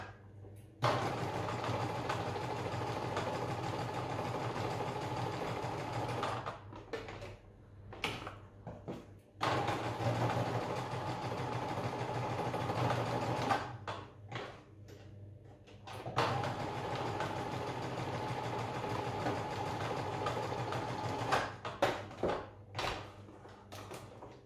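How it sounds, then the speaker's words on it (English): A sewing machine stitching fabric straps onto Easter bunny dungarees, running in three long steady whirring bursts separated by short pauses with handling sounds. "we're going to sew round those, holding them in as we go"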